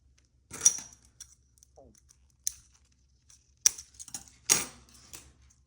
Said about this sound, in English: these coils are made from plastic, and so you can very easily just snip them to size with the scissors